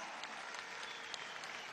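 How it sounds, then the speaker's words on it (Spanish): A crowd applauds in an ovation welcoming the president to La Guaira, a steady wash of clapping heard fairly faintly and at a distance, with no clear pauses. "usted se merece esta ovación con que lo ha recibido este pueblo"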